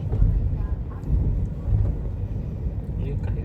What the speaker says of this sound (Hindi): अब शायद इलेक्शन के लिए ये लोग आवाज मारते फिर हैं, इलेक्शन वाली गाड़ी चले